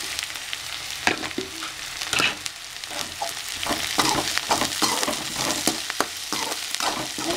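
Green peas sautéing in a pan for flattened rice kichidi, a loud continuous sizzle with frequent spoon stirs and scrapes close up.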